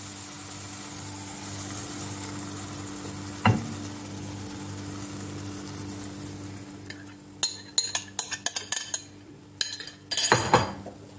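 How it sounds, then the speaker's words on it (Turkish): Beaten eggs poured over sautéed spinach in a pan, a soft low hiss under a steady hum, a single sharp knock, then a run of quick metallic clinks and scrapes of a utensil near the end. "Şöyle üzerini düzeltip yumurtaları üzerinde gezdiriyorum."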